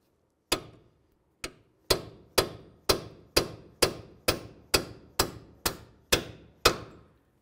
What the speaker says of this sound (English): try using a punch with a hammer